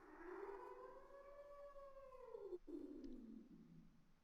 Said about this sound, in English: something howling.